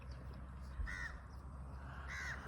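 Crows caw twice beside a spot where street dogs and puppies are being fed, the harsh calls ringing out over steady outdoor background noise.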